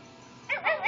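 A puppy gives a short burst of high, wavering whimpers and yips, close and fairly soft, coming after a quiet stretch of room noise.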